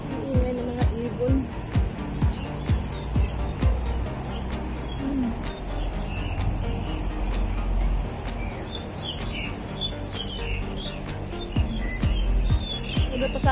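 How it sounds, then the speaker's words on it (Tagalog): Wild birds chirp and call in the open near an island on a hot day, with sharp scattered tweets and clicks spread over a steady outdoor hum, some calls near and others farther off. "Ang ingay ng mga ibon."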